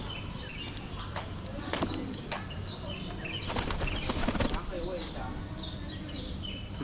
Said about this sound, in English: Oh, these pigeons here. We'll take a look at the pigeons.